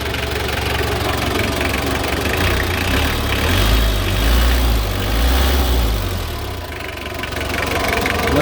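A 2002 Mitsubishi L300 diesel engine idles steadily with an upgraded Bosch injection pump, producing a continuous low rumble with a faint knocking clatter, close and constant throughout.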